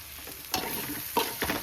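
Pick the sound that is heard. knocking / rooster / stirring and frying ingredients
stirring and frying ingredients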